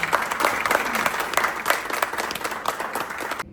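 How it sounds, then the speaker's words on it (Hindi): Students in a hall give loud, sustained applause, a dense continuous wash of many hands clapping close and strong before it stops abruptly at the end. "हम सब जोरदार तालियां बजाएं।"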